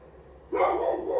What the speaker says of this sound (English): I'm sorry about my dog. There's probably some a neighbor or something parking and he's acting crazy.